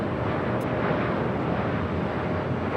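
An airplane takes off from runway 24 left at Los Angeles International Airport, a broad, steady jet roar heard from a distance with a constant rushing texture and no voices.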